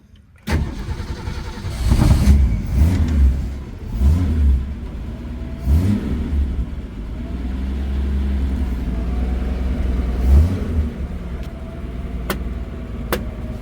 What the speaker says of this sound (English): It won't stay running at low RPMs.